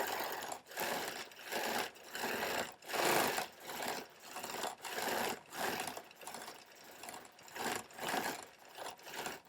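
A sewing machine quilting stitch in the ditch, running in steady close bursts of rapid whirring stitches broken by short regular pauses, loud and unaccompanied by talk.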